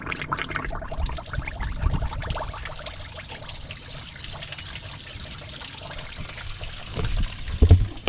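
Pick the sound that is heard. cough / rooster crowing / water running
water running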